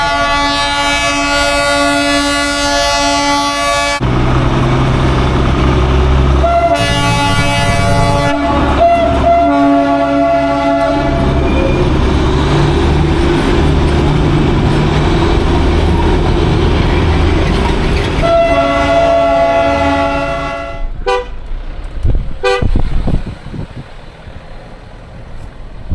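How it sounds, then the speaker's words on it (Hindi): A diesel toy train in Darjeeling rumbles past very loudly and close, with long blasts of its horn near the start and again later, wheels clattering throughout before the noise eases toward the end; no talk is heard. "कितना शोर बजा रहा है ये ट्रेन।"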